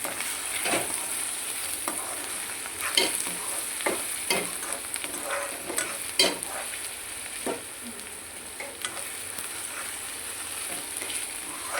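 Onions fry with ginger-garlic paste in a pan for a chicken curry, giving a continuous bright sizzle with repeated scraping strokes as the mixture is stirred, close and moderately loud.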